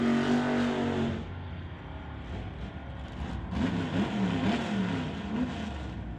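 A drag race car launching off the line at a tire-series drag event, a loud engine roar that cuts off quickly, followed by another rising, warbling engine note.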